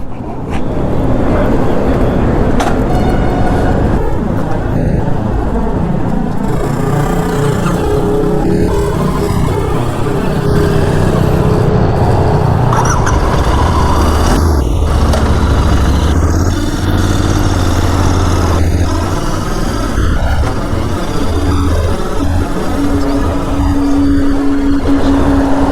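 Royal Enfield Interceptor 650 motorcycle riding toward Mandri Lake on a hot summer day, its engine a steady loud drone with wind rush throughout, shifting pitch as it accelerates, with faint talk mixed in.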